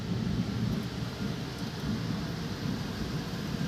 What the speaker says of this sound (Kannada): ಗುಡುಗು ಥರ ಸೌಂಡ್ ಕೇಳಿಸ್ತಾ ಇದೆಯಾ?